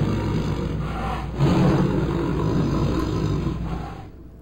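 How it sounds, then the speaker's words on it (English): A tiger growl sound effect gives a low, rough, sustained rumbling snarl that swells after the first second and fades near the end, heard alone at moderate level. "We've had sports teams that have used the tiger growl."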